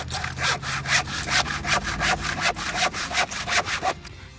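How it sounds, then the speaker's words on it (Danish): A hand saw cutting the wooden bottom piece of a simple box to length, with about a dozen steady rasping back-and-forth strokes, close and even, then stopping. "Nu skal vi save bunden af, så den passer til længden på siderne."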